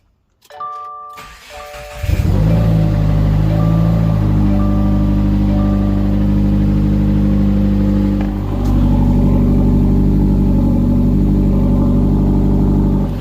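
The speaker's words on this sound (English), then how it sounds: "you can hear there's a knocking, ticking sound" A 2015 Subaru WRX engine starts with a chime, then idles loudly through a straight-pipe exhaust, its steady drone carrying a rapid ticking, knocking rhythm from an engine fault.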